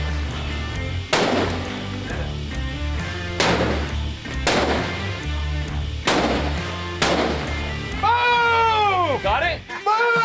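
Sniper rifles, assault rifles and heavy pistols firing at targets on a shooting range, with four loud sharp reports spaced about a second or two apart over steady background noise and voices.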